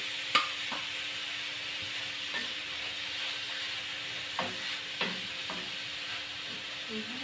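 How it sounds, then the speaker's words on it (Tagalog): Meat fries in a sticky pan with a soft, steady sizzle, broken by several light scraping and stirring knocks at irregular intervals. "lutuin lang natin yung ating karne"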